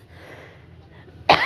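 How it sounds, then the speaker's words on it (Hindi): A single sharp cough bursts out near the end, close to the microphone, after a quiet stretch at home. "तो आप लोग मेरी खांसी को इग्नोर कीजिएगा।"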